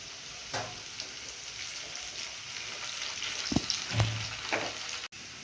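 Cashews and raisins fry in a pan of oil for a fried rice dish, giving a steady close sizzle with a few louder crackling bursts and light stirring, no voices.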